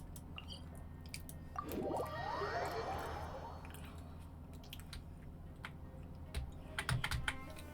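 Computer keyboard typing during a game session, a steady patter of soft key clicks under low background game sound and music, with a brief swell of game effects in the middle.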